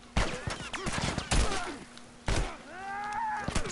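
Gunshots in a horror video game crack out in a quick, uneven string of loud bangs and thumps, mixed with the player's groans and muttering.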